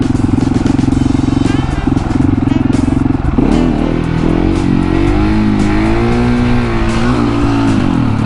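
A KTM 701 Supermoto single-cylinder motorcycle pulls away in first gear, its engine note rising and falling as it accelerates close by, loud and steady throughout.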